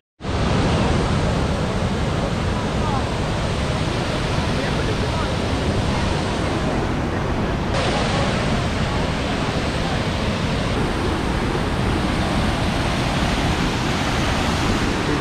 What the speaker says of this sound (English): there's a big waterfall down there